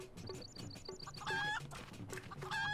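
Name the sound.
chicken clucking in video game, Hildibrand's Journey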